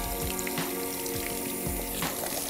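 Tap water runs steadily during a salon hair rinse after shampooing, a continuous close splashing wash that carries on alone throughout.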